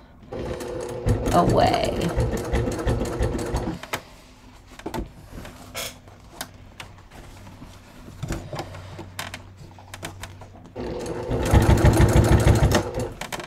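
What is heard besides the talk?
sewing machine stitching leather bucket bag seam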